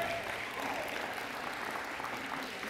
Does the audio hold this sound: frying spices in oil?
no